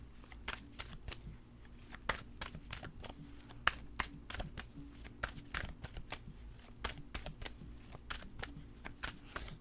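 Tarot cards are shuffled close up in a quiet room, a fast run of crisp riffling flicks and slaps repeating in quick bursts without pause.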